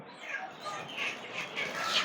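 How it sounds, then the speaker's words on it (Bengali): Many chickens clucking together inside a crowded poultry market warehouse in Kolkata, a dense, continuous chatter of hens with steady loudness and no clear talk over it. "পুরো মুরগিতে মুরগিতে ছড়াছড়ি"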